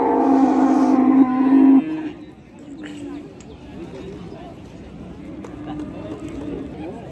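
A cow at a busy livestock market lets out one loud, drawn-out moo, then crowd noise and people talking carry on in the background.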